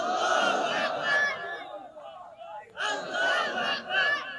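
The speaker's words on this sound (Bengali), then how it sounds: "একটু তাকবীর ধরেন, একটু তাকবীর ধরেন।" A large crowd at an Islamic religious gathering chanting takbir in unison, two loud swelling shouted phrases separated by a short pause.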